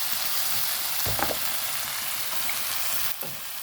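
Oil poured over a dried prawn roast in a pan sets off a steady, close sizzle that runs throughout, with a couple of brief clinks or stirring touches along the way.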